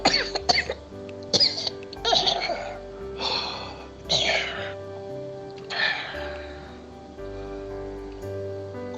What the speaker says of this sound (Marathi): जरासा खोकला झालाय ग